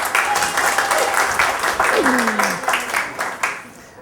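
An audience at a magic class applauds, scattered rhythmic claps mixed with a talking voice that carries on over them and slowly trails off.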